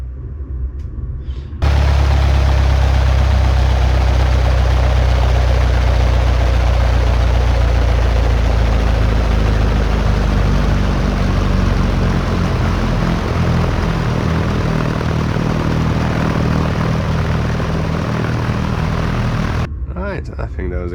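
A Cessna 172 piston engine drones steadily in a flight simulator landing, a loud continuous low propeller hum with rumble that holds level for nearly the whole stretch, then cuts off abruptly at the end.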